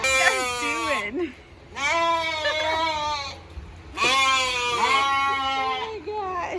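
Sheep on a farm, kept beside a new tractor, bleating close and loud in three long, wavering cries separated by short pauses.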